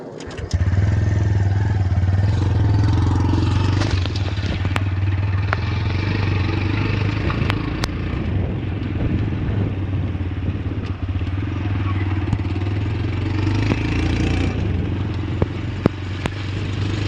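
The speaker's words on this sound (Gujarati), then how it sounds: "આપણે બાઇક ઉપર બેસીને આપણે તેમના ઘરે જઈએ છીએ હાલમાં" A motorcycle carries riders along a road toward Aakliya village. Its engine drones steadily and loudly from close by throughout, with occasional rattles and clatter over the hum.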